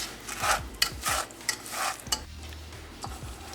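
A spoon stirring apple pie sauce in a pan, quiet scraping strokes against the pan bottom with a light sizzle in between, close and unhurried.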